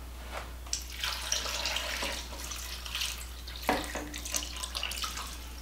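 Water runs and splashes steadily into a pot of butter beans and chicken broth, with a continuous gushing stream and a few louder splashes, under a low background hum.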